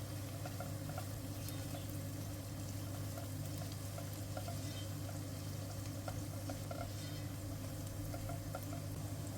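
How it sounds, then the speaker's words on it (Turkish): Onions frying with a spoonful of tomato paste in a pan, giving a steady, even sizzle with a faint crackle that runs unbroken throughout, close and moderately quiet, with no talking. "Kavrulan soğanların üzerine bir yemek kaşığı da e, domates salçası ekliyorum. Salçayla da 1-2 dakika kavuralım."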